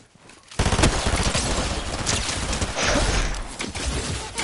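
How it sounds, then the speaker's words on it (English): Rapid bursts of gunfire from a sniper match in a video game, a dense near-continuous fusillade that starts abruptly after a brief quiet and keeps crackling loudly throughout. "He's shooting at people over here."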